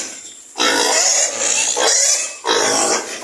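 A sow pig at a pig farm gives loud, close, raspy grunts in two drawn-out bursts with a brief gap between them.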